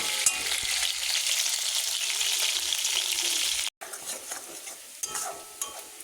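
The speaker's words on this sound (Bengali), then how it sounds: "অর্ধেকটা আমার ভেজে নিচ্ছি আর অর্ধেকটা অন্যদিকে ভাজবো" Food frying in a pan while being stirred, a continuous close sizzle with spoon scrapes, briefly cutting out and then resuming more softly with intermittent stirring sounds.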